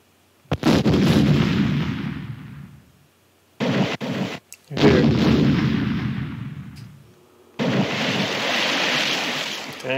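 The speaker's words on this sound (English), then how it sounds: "I'm tired of listening to all these explosions." Long roaring explosions from a Philips CD-i video game erupt one after another, each a loud, sustained rumbling blast that cuts off abruptly before the next, with short silent gaps between them.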